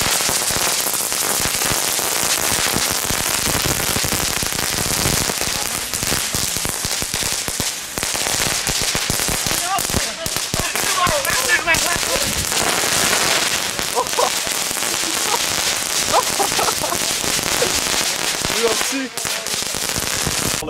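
Category 1 consumer fireworks go off among playgrounds in Den Bosch with dense, continuous crackling and rapid popping for about twenty seconds. Voices talk over the noise.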